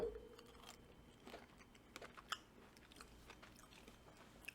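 Someone chews Nerds Very Berry Bites candy up close, with soft crunchy bites and crackles scattered through a quiet stretch and no talking.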